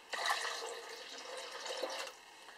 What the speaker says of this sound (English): what we're going to need here now to add is, to complete this, is 10 to 12 ounces of water